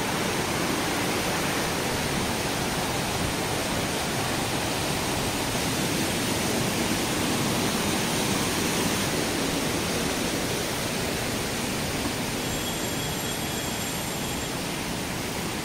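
Two waterfalls pour beside a temple in a Dongria Kondh tribal village area near Rayagada, Odisha, making a dense, unbroken roar of rushing water that stays loud and even throughout with no voices.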